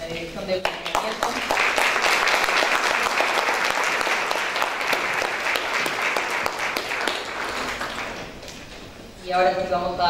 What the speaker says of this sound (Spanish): un aplauso entonces para la directora